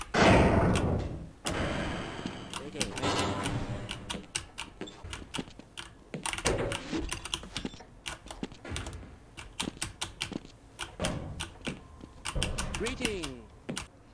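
Brisk, uneven clacking of an HP Omen Encoder mechanical keyboard with Cherry MX Red switches being typed on, close and steady, with busy bursts of keystrokes and brief pauses.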